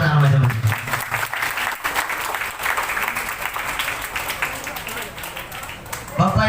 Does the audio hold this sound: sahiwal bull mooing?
no